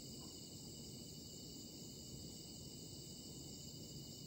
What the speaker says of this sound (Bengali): আর চারিদিকে ঝিঝি ঝিঝি পোকার আওয়াজ